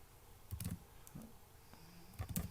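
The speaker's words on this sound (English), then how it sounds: "here you simply just type the plugin name" Keys clack on a computer keyboard in a few sparse, soft bursts, close but faint against a quiet room.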